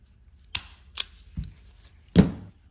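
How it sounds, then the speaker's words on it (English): A crimp connector being cut off and electrical wire stripped during starter repair on an Allis Chalmers WD45 tractor: four sharp, isolated snips and clicks, close and crisp, with quiet between them. "Instead of using the crimp connector, cut it off, strip it back."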